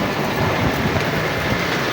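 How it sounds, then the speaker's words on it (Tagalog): Steady heavy rain hisses loudly and evenly, a dense continuous downpour with no voices heard. "Lumakas pa ang ulan."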